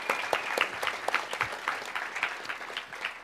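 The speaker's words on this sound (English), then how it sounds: "let's have another welcoming applause for our panelists" A conference audience at the DjangoCon US 2018 panel gives a steady round of applause welcoming the panelists, moderately loud and continuous throughout.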